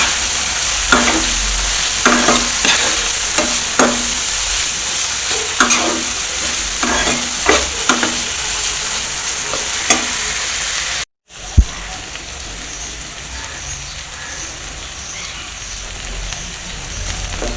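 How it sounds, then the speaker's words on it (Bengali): Shrimp fry in a hot pan for fried rice, a loud steady sizzle with repeated rhythmic stirring scrapes in the first half, then a continuous hiss after a brief break; no talking. "চিংড়িগুলো এগুলোর সাথে একটু ভেজে নেব।"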